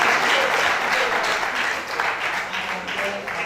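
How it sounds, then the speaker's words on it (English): Sustained applause from an audience at a World Antimicrobial Day seminar event, a dense steady wash of many hands clapping throughout with faint voices mixed in. "Can we please give them a round of applause as well?"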